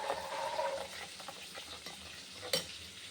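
Salt and sugar are stirred into a mixture with faint, quiet scraping strokes, ending in one sharp clink of the spoon against the bowl.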